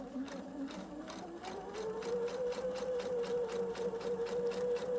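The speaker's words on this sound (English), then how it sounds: "I'm just gonna sew right up that same exact seam" Sewing machine running steadily as it stitches along a center back seam, a continuous mechanical whir with rapid regular needle ticks that rises slightly in pitch partway through and holds alone, without talk.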